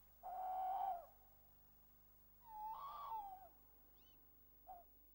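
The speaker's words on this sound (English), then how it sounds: "The tawny owl is a nocturnal bird of prey with mottled brown plumage." A tawny owl calls at dusk in a British garden setting, giving two drawn-out hoots a couple of seconds apart and then a short, fainter note, all clear against quiet surroundings.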